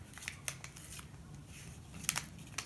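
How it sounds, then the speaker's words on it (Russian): A paper flower-seed packet is opened with a few faint, crisp snips and light paper rustles spread unevenly over a quiet background. "Открываем второй пакетик"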